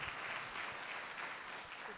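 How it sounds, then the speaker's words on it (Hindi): Applause for two volunteers called forward at a community gathering on the Gita, a faint, steady patter of clapping from the audience with no one speaking over it. "दोनों भाइयों के लिए ताली बजनी चाहिए साहब"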